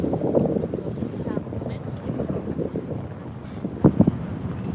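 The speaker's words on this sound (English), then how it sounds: "maybe the wind might get better" Wind buffeting a handheld microphone during a walk through Lower Manhattan, New York City, a steady low rumble with gusty swells throughout, with a brief louder thump near the end.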